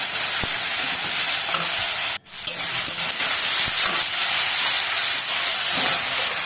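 Hilsa curry masala sizzles and hisses steadily in a hot pan, a continuous close frying texture broken by one brief pause, with faint stirring scrapes.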